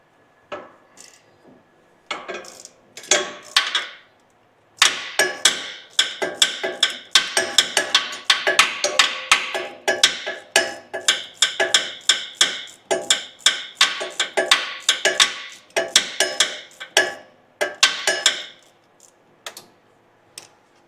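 A 12mm bolt being undone on the steering shaft of a Toyota Hilux with a ratchet, heard as rapid, close metallic ticking in bursts with brief pauses between runs.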